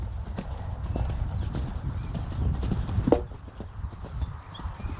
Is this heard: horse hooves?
yes